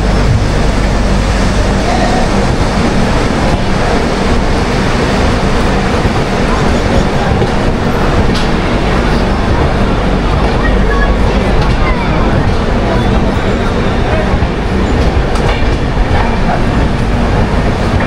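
New Delhi Duranto express passing at close range, a loud continuous roar with rhythmic clickety-clack from its wagons running without a break across the whole stretch.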